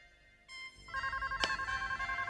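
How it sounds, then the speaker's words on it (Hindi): A phone rings indoors with a repeating electronic ringtone, a steady tonal pattern that starts about halfway through and keeps pulsing in regular bursts, fairly clear and close. "फोन बज रहा है ना कहीं पे?"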